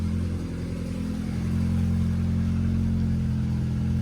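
A turbocharged Honda Civic on E85 runs steadily with a loud, even, low droning hum, a constant close-up engine note with no pauses.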